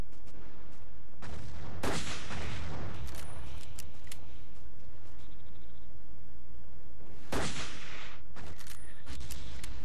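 Gunfire and explosive blasts in a World War II tank battle in the Battle of the Bulge setting of Battlefield 1942, with loud bursts near 2 and 7.5 seconds over a steady battlefield rumble.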